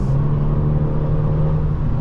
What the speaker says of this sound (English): The only thing you can hear is just a little bit of the exhaust,